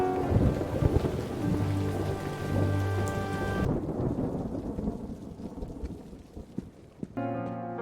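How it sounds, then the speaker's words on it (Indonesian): Heavy rain pours in a steady, loud hiss with a low thundery rumble, mixed with background music that cuts out midway and returns near the end. "Bahkan ketika hujan deras pun turun,"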